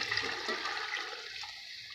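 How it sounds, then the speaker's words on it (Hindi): Water poured from a glass into a cooking pot of chickpea rice pulao, a steady splashing rush that stays close and even for the whole stretch with no voices. "अब इसके अंदर हम पानी ऐड करेंगे। मैं इसके अंदर तकरीबन 5 गिलास पानी के ऐड करूँगी।"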